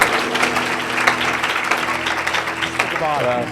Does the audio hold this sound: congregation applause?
yes